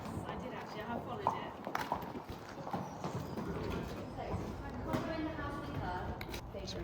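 Horses being moved to a new farm shift around indoors, with hooves clopping and shuffling on a hard floor and occasional knocks, while people talk over the sounds.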